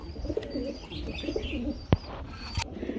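Fancy pigeons coo in low, throaty rolls, repeating close by, with a few sharp clicks and knocks scattered between the calls.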